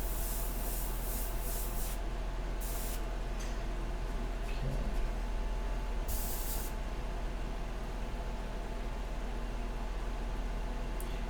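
An airbrush spraying India ink onto Masonite for a nude painting, heard as a few sharp hissing bursts of air over a steady low background hum, with quiet gaps between the sprays.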